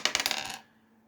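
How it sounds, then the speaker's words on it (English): Dice clatter and tumble across a surface in a quick burst of rapid clicks, then settle into silence. "we need to roll the dice again"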